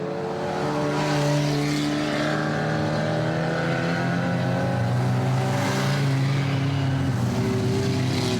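Ministox stock cars racing at a Warton Stock Car Club meeting roar with a sustained, loud, close engine drone that rises and falls in pitch as cars pass, without talk.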